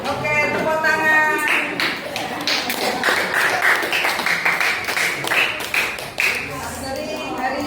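Classroom students clap together in a dense, sustained burst of sharp overlapping claps with steady loudness, while voices chatter beneath throughout.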